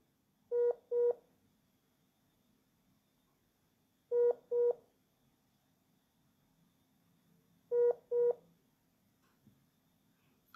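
Ringback tones of an outgoing phone call, three evenly spaced double rings a few seconds apart, clear and close over faint line hiss.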